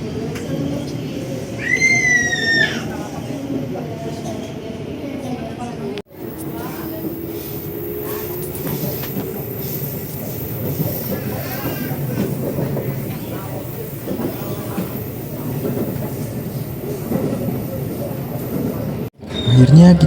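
A Jakarta commuter train rolls toward Sawah Besar station with a steady rumble and rattle of the carriage, a squeal of wheels or brakes early on and people talking over the noise.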